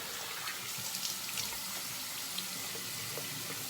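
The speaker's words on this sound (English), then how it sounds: "Rinse this off real quick." Steady rushing water from a running tap as a Weck Sextoblade shavette razor is rinsed, a continuous close splashing flow with small spattering variations throughout.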